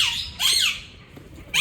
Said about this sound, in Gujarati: જો અહીંયા ઘણા બધા પોપટ છે.